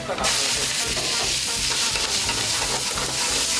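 Tteokbokki and vegetables being stir-fried in a hot oiled pan at a snack shop, a loud continuous sizzle with rhythmic scraping stirs repeating about twice a second, close up.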